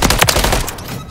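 Gunfire in Modern Warfare 3 multiplayer on the Rust map, a rapid burst of loud close shots in the first half that trails off into fading echo and ambience.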